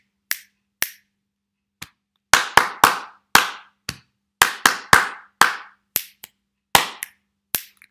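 Sharp body-beat claps in a children's music call-and-response game, sounding in short bursts of single and quick repeated hits with crisp silences between the patterns, loud and close with no voices.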